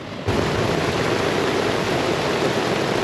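Rain showers fall at a crowded campground just after a thunderstorm, a loud, steady broadband wash of rain that kicks in abruptly and then holds evenly, close by, with no talking.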